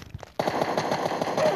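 Rapid automatic AKM rifle fire in the PUBG Mobile game, a burst of about ten evenly spaced shots after a couple of faint earlier sounds.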